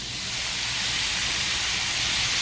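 Water hisses into steam on a hot Blackstone griddle cooking broccoli, a loud, steady broadband sizzle that holds unbroken for the whole stretch with no voices.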